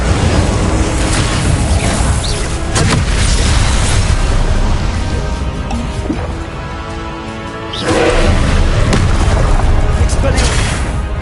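Booming magical fire spells burst repeatedly during Hogwarts Legacy combat, loud explosive blasts and crackling impacts layered over dense battle noise, with a brief quieter lull before another burst.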